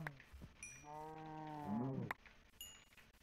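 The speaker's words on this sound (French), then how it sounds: "Par ici, les vaches." Cows mooing in a video game, a single drawn-out low moo rising and bending in pitch, faint and set against quiet ambient noise with a few short clicks.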